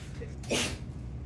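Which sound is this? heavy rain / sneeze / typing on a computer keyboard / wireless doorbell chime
sneeze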